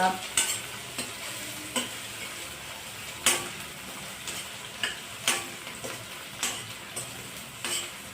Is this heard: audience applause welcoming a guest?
no